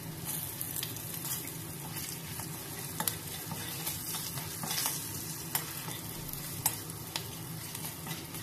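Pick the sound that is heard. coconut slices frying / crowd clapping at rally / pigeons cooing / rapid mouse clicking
coconut slices frying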